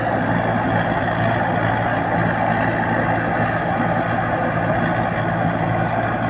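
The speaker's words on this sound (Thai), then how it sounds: "เสียงเครื่องนี่เสียงเครื่องนิ่มมากเลยครับ" A turbocharged diesel truck engine idles steadily, a constant low rumble with a dense broadband hum throughout.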